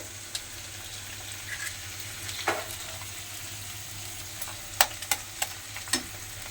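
Two broken eggs sizzle softly in a pan with flattened rice, with a few sharp clinks and scrapes of a utensil stirring, over a steady low background hum.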